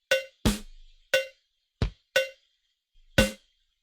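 A drum pattern slowed to about 40 beats per minute, with six sharp, ringing cowbell strikes spaced unevenly in the open silence, each decaying quickly and heard alone.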